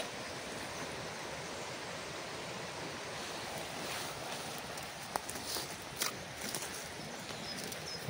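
Steady broadband rushing of a river flowing near an old ruined village, continuous and fairly quiet, with faint wind and a few soft knocks, no talking.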